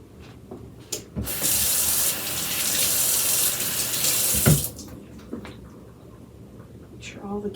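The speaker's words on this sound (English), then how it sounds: "I'm putting 1 3/4 cup of water in here." Water runs from a tap into a pot in a strong, steady gush for a few seconds, then stops, followed by light clattering.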